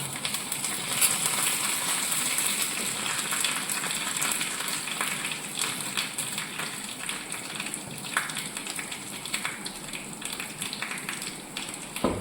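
Dried red chillies fry in a pan of hot oil with mustard seeds and fenugreek, giving a dense, steady crackle and sizzle, close and fairly loud, with tiny pops scattered throughout and no talking.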